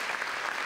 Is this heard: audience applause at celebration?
yes